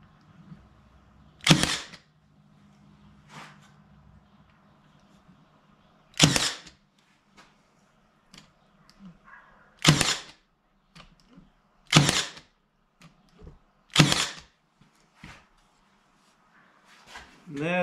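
Nail gun shooting stiles and rails onto a wooden bathroom vanity drawer, six sharp, loud pops spaced a few seconds apart, with faint handling noise and occasional quiet talk between shots.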